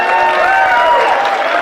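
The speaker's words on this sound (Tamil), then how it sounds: "சொன்ன உடனே எங்க பெண்கள் கேங்லாம் கை தட்டுறாங்க பாருங்க" Dense, steady applause from a comedy show audience, loud and continuous throughout, with a voice sustaining tones over the clapping crowd.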